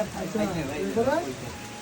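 Steady rain falls on the Ludhua tea garden in Tripura, a broad, even patter spread across the whole stretch while people talk over it close by.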